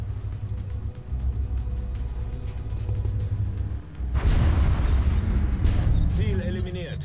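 A deep booming explosion from a shot in the video game XCOM: Enemy Within rumbles and roars loudly for several seconds while someone talks over it.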